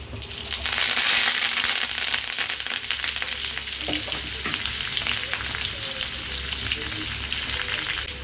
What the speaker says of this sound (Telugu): ఉల్లిపాయలు కాస్త బాగా మగ్గాలి